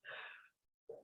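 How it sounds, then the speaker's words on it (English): A single sneeze during a chair yoga class, a loud burst that trails off, followed by a short gap and then the start of a breath or voice. "Sorry, I've got a sneeze coming."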